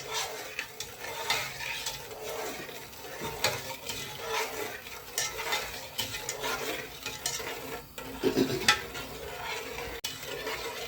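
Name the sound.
stirring sugar syrup in pan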